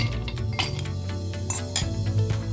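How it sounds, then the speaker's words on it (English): A spoon stirs pineapple, beetroot, orange and ginger juice in a glass, making repeated bright clinks against the glass with a steady low hum underneath. "Then I'm going to stir everything up"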